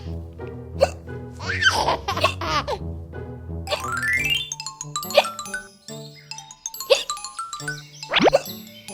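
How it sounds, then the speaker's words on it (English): A princess with hiccups gives loud, sharp hiccups at uneven intervals. Cartoonish dings, boings and giggles mix between them in a playful children's-show soundtrack. "It's like someone has the hiccups."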